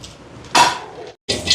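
Chopped ingredients mixed with salt in a metal bowl for urad dal vada batter, giving close scraping and clattering bursts of utensil against the bowl, with a brief pause before the stirring resumes.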